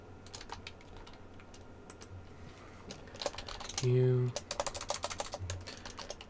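Keyboard keys click in quick, uneven bursts while typing a line in a modded Minecraft server chat, close and fairly quiet, with brief speech and a short tonal game sound partway through.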